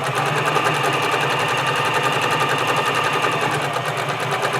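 A sewing machine runs steadily while stitching a waistband, its needle chattering in a fast, even rhythm close up, with no talking.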